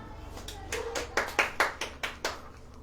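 A church congregation claps during a Hindi sermon, several loud uneven rounds of hand claps that swell and fade over a low hum of background noise.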